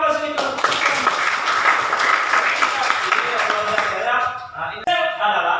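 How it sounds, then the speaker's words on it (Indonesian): Classroom applause from students during a biology lesson, a steady wash of clapping lasting several seconds with a brief dip near the end before it resumes. "Berikan aplaus ini."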